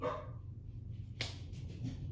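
A pet dog indoors at home gives a single short, sharp bark, fairly faint, after a brief quiet stretch with a low background hum.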